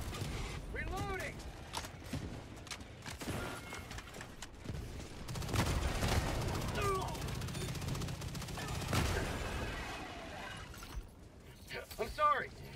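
A deployed sentry turret fires in a video game, with bursts of automatic gunfire and mechanical clatter mixed with other battle noise and spoken voice lines.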